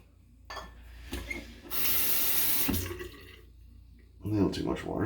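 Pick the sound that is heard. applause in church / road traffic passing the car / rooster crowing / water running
water running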